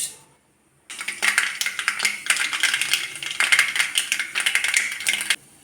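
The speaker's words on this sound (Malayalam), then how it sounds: "കടുക് പൊട്ടി." Mustard seeds pop in hot coconut oil in an iron wok on the stove, a dense run of sharp, close crackles and spits that starts abruptly and stops suddenly near the end.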